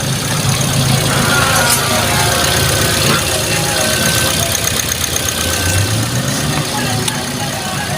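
A car engine runs at a steady idle after a battery replacement, its continuous low rumble filling the whole stretch with a faint ticking texture, while people talk over it.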